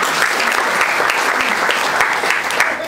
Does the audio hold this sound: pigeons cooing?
no